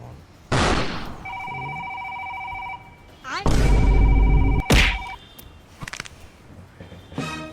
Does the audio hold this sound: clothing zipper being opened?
no